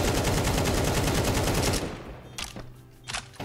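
Rapid, loud automatic gunfire in the game CS2 rattles continuously for nearly two seconds, then breaks into a few scattered shots and fainter in-game noise.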